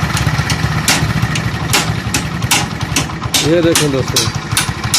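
A motorcycle engine with a modified silencer idles steadily with a throbbing low rumble and sharp exhaust pops, while someone talks over it close by.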